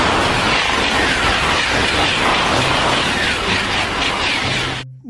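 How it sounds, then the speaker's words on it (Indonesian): A toy high-speed train plays a loud, continuous rushing rail rumble with rhythmic clatter, close and steady, cutting off abruptly at the end. "Kereta super cepat."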